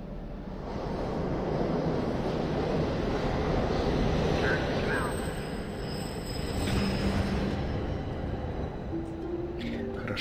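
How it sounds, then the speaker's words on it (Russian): A train arrives in the video game The Darkness, a loud, continuous rumble of rolling railcars with wheel squeal, steady throughout and swelling slightly midway. "как раз вот в эту сторону сейчас поезд приедет"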